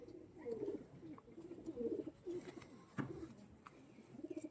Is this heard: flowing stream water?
no